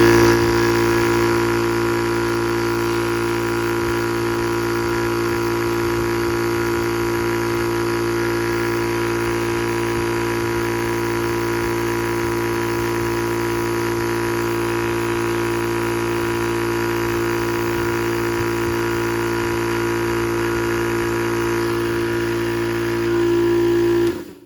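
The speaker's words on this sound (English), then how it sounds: "let's fire this bad boy up" A Yong Heng high-pressure air compressor runs steadily after an oil change, giving a continuous, loud mechanical hum with a whining tone. It holds even from start to finish and cuts off sharply at the end.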